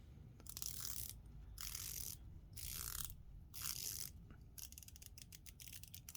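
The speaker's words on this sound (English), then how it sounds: "So this is meant to be a 120 click unidirectional bezel." Clicking bursts from a 120-click unidirectional dive-watch bezel being turned on a Draken Kruger, several separate runs of close, crisp ratcheting clicks, then a faster quicker series near the end, with no talking.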